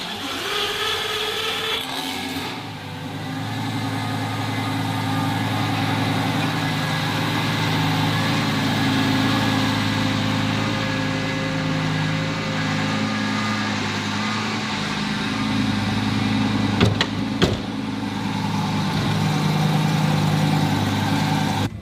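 A Lamborghini engine, restored after fire damage, runs steadily throughout with a continuous low rumble and mid-range drone, briefly swelling near the end as it drives off.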